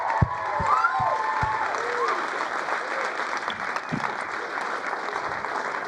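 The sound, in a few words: audience applause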